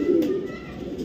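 A single deep, rolling coo from a pigeon of a racing pair, close and clear, fading quickly into quiet background.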